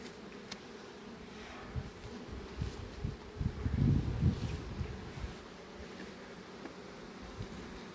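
Carpathian honeybees hum steadily around their hive at an apiary at the end of the season, a soft continuous drone that swells briefly in the middle, with faint wind underneath.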